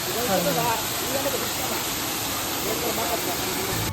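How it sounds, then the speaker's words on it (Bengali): Waterfall at Rajar Jharna rushing in a steady broadband roar, loud and continuous throughout, with faint voices underneath. "তো এই যে ঝর্ণাগুলো দেখুন"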